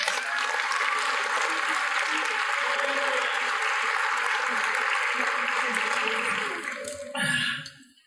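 Audience applause at a university nursing graduation keynote, sustained and dense for about seven seconds before thinning out, with some voices mixed in toward the end.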